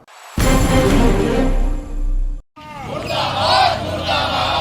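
A crowd at a protest rally against a religious figure in Madhya Pradesh and Uttar Pradesh shouts slogans loudly and close by, a massed chant cutting off abruptly, then resuming as overlapping rhythmic shouting.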